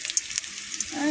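Vegetables frying in a pan, a brief close hiss of sizzling with a few faint crackles and a soft voice underneath.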